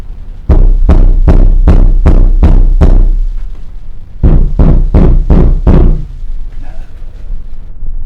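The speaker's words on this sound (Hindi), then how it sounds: "दरवाजे पर आवाज कुछ देर तक आती रही" Heavy banging on a door, a sound effect: a rapid run of six loud, evenly spaced blows, a pause, then five more, close and booming.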